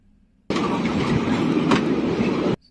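A tram rolls past on rails in Bucharest's Ferentari district: a loud, close rumble with wheel clatter swells in abruptly after a quiet start, holds for about two seconds, then cuts off.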